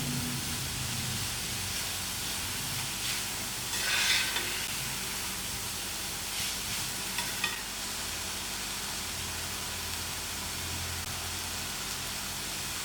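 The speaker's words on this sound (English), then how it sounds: "the chilies is frying" Crushed chilies frying in a pan for pickle give a steady hissing sizzle, broad and constant throughout, with a few brief stirring scrapes and clicks midway and no voices.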